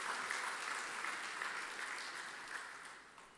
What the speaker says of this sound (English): I ask you to give them a round of applause